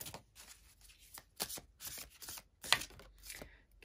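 A deck of Witch's Moon Magic tarot cards shuffled by hand, irregular papery riffles and slaps in quick bursts, close up and fairly quiet, with no speech.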